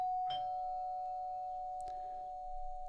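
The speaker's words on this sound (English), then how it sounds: "I have a doorbell sound effect on my computer here" A doorbell chime rings with a sustained, clear tone that slowly fades, followed by a couple of faint clicks in a quiet room.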